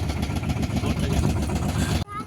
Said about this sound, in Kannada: ನಾವು ಬೋಟ್ ರೈಡಿಂಗ್ ಎಂಜಾಯ್ ಮಾಡ್ತಾ ಇದ್ದೇವೆ